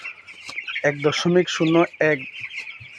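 Fourteen-day-old broiler chickens on a farm cluck in a dense, steady flock chatter, with several louder close calls rising above the continuous background din.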